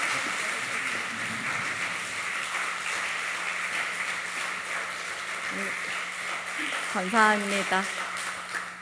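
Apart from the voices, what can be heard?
congregation applause in church service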